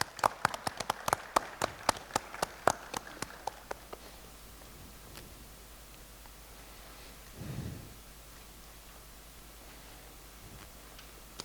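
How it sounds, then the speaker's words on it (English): A warm round of applause welcomes a speaker at a regional business forum, with dense, loud clapping from the audience for the first few seconds that quickly fades away, leaving a quiet hall. "Panikar with a generous round of applause"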